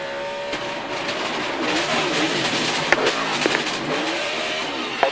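Onboard sound from the #88 NASCAR car spinning toward the wall after a blown right rear tire: a steady, strained engine roar with tire scrub and a few sharp knocks as the car whips around.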